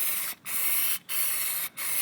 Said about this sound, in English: I'm trying to focus on spraying here, because it's a big rim